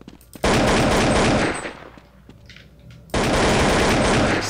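Rapid automatic gunfire in a shooting video game, two loud sustained bursts separated by a short quieter pause.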